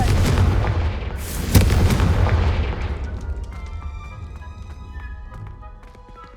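A Confringo spell explodes in the Hogwarts Legacy video game: a loud booming blast with a crackling burst, then a rumbling decay and scattered ringing, chiming tones as it fades.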